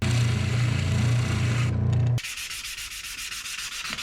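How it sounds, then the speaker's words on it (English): A guitar nut is sanded and shaped with a steady close rubbing rasp for about two seconds, then lighter, quieter rhythmic sanding strokes follow. "Needs a bunch of shaping and sanding and shaving."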